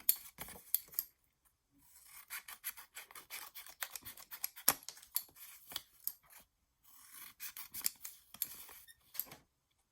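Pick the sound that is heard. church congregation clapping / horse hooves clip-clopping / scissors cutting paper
scissors cutting paper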